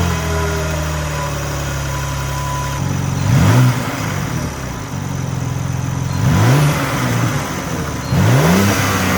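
A 2023 BMW M2 with a 3.0-litre twin-turbo inline-six idles steadily, then blips its revs three times in short rising bursts, loud and close with no talk over it.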